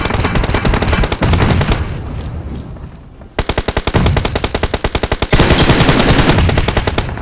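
Gunfire in PUBG Mobile, loud close automatic bursts of rapid evenly spaced shots, a long rattling stream after a quieter stretch, with further sustained firing and mixed shots near the end.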